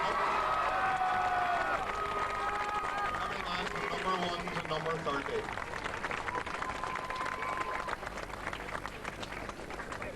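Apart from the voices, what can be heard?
crowd applauding and cheering the GAA team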